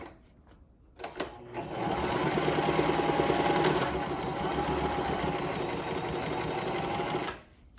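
Close, loud sewing machine running a steady, fast, continuous stitch through fabric for a boat table, starting after a brief quiet lead-in and holding an even mechanical whir before cutting off.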